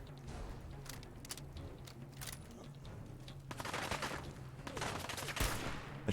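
Gunfire in the video game Fallout 4 cracks out in scattered single shots and short bursts through a wooded area, fairly soft and mid-distance, growing denser toward the end.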